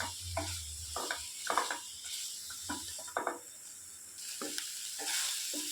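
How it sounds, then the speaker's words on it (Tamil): Soya chunks fry in masala in a pan, a close steady sizzle broken by repeated stirring scrapes in an uneven rhythm. "இந்த மாதிரி நல்லா ஃப்ரை பண்ணோம்னா அந்த மசாலாஸ் எல்லாமே சோயா சங்க்ஸில் ஒட்டிக்கும்"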